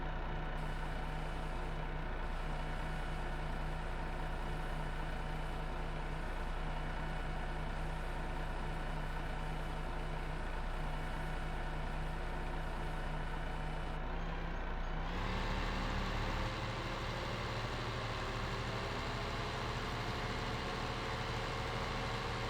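Steady diesel idle of a modded Peterbilt 388 truck in a farming video game, a constant low rumble running throughout, with a brief hiss like an air brake release near the end and the engine note shifting after.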